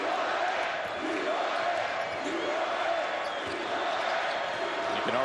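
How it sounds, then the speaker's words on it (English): Huge Arizona crowd at the 2014 Pac-12 championship basketball game against UCLA chants and roars in a large arena, a continuous crowd din with sneaker squeaks and court sounds, moderately distant under the general noise. "You can already hear the chants from this huge Arizona crowd."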